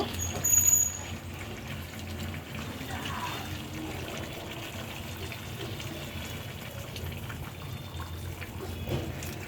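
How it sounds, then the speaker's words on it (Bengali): Hot water is poured into goose meat curry as it cooks, making a steady, soft trickle and splash that runs the full length, with a slightly louder gush near the start and no talking. "তাই আমি পরিমাণ মতো ঝোলের পানি দিয়ে দিলাম, গরম পানি"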